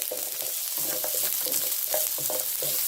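Onions sizzle steadily in a pan alongside garlic, with soft, irregular scrapes and stirring strokes over the constant frying hiss.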